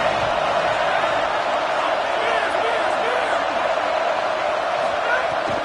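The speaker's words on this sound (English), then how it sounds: "This crowd ready to make its presence known." Football stadium crowd roaring before a play, a steady, dense and far-off wall of noise with no breaks, loud and even from start to finish.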